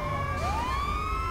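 An ambulance siren in GTA 5 wails loud and close, its rising pitch sweep running steadily with no talk over it.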